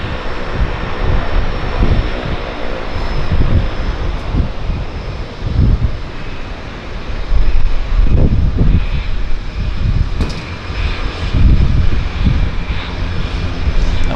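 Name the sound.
Twin Otter plane landing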